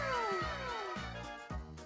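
A cat meows three times in a row, each call a falling, drawn-out wail heard close and clear with no talking.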